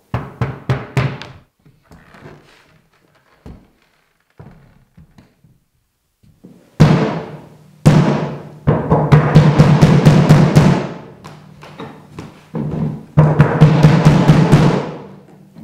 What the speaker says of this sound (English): let's look at how the bass drum sounds right now.